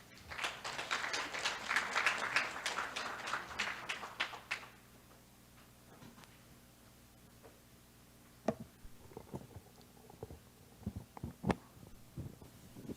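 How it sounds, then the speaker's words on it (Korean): An audience at a seminar launching an AI forum claps to welcome a speaker, a dense burst of applause for about four seconds that fades into scattered faint claps and taps. "뜨거운 박수로 이경정 박사님을 모시겠습니다"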